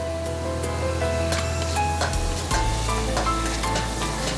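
Shallots sizzling and crackling in hot oil for a fish curry, loud and close, with steady frying hiss and stirring scrapes throughout.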